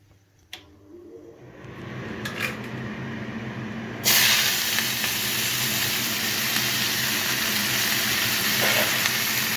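Chopped spinach, eggplant, green chili and beans dropped into hot oil in a wok: after a quiet stretch with a steady kitchen exhaust hum, a sudden loud, close, broadband sizzle erupts and keeps roaring steadily to the end.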